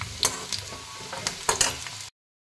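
Potatoes fry in hot oil with a steady sizzle, broken by a few scraping stirs and clinks. The sound cuts off abruptly near the end.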